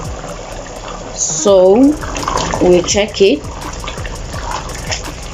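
Afang okazi soup bubbles and simmers in a pot, with soft gurgling and popping running under a nearby voice speaking briefly.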